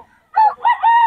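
At a Bocaue market, a rooster gives one short, close, loud crow with a clipped opening and a drawn-out final note.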